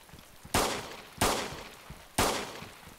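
Three sharp gunshots, evenly spaced and each with a short decaying tail, ring out in the survival video game DayZ against a quiet background.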